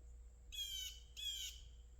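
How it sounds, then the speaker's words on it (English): Two harsh, raspy blue jay calls in quick succession, moderately distant in the woods at midday, over a quiet low background rumble. "That's a blue jay, by the way."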